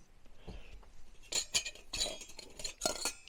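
Metal parts of a cheap OHUHU camping wood stove, including a grill piece, clink and clatter as they are handled, a few sharp close metallic knocks and rattles scattered over a quiet background.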